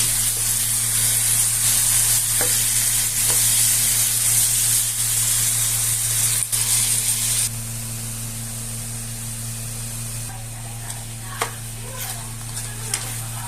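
Marinated chicken for tinola sizzles loudly and steadily in a pot as it is stirred, a continuous crackling hiss that eases slightly partway through, with no voices.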